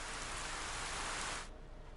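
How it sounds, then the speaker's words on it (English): Steady broadband rain pours down in a video game soundscape, a dense, even hiss of drops on surfaces that holds for most of the moment, then thins abruptly to a quieter patter near the end. "nothing will make the sound of the rain stop"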